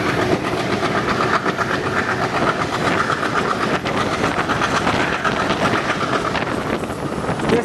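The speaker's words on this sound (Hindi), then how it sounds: "देखिए डीजल लोकोमोटिव कैसे पिकअप करता है, देखिए साउंड, देखिए साउंड कितना मस्त है।" A diesel locomotive hauls a short passenger train on the Dibrugarh–Guwahati line as it picks up speed, with a steady, loud rumble, rail clatter and some wind buffeting throughout.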